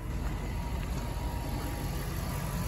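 A 2007 Jeep Commander Limited 4x4 with a V8 Hemi and 134k miles idles smoothly, giving a steady, quiet low hum with no variation throughout.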